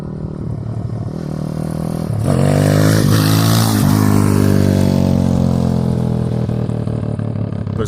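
A TaoTao DBX1 140cc pit bike engine revs up loud and close, its pitch rising and wavering as the throttle is worked, then holding at a high, steady buzz.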